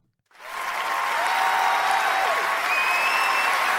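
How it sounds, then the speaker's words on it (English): A round of applause starts suddenly after a short silence and holds steady as a dense, loud wash of clapping from many hands. "Round of applause"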